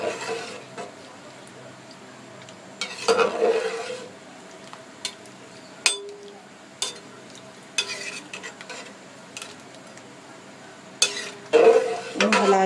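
A spoon stirs potatoes in a pot of heating water for homemade French fries. Scraping strokes come in short bursts with quiet gaps, close and fairly loud, with a faint sizzle and a few utensil clinks.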